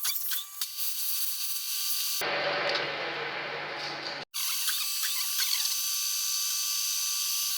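A coordinate boring machine cutter shaves excess weld from the injector well of a VW T5 2.5 cylinder head, a loud continuous metallic whine that shifts to a harsher grinding midway, then returns.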